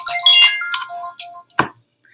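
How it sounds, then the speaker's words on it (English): A mobile phone rings in a classroom during a teacher's quiz review for a data tables and graphing lesson: a bright, tonal ringtone melody with layered chiming notes, fairly loud and close, ending with a short burst before falling silent. "my phone's ringing because it's my prep time"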